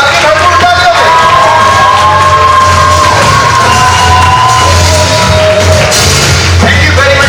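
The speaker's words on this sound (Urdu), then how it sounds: "آپ کی بھرپور تالیوں سے." Loud crowd at a Women's Chamber of Commerce event clapping, cheering and shouting as a brigadier walks onto the stage, a dense continuous roar with whoops rising above it.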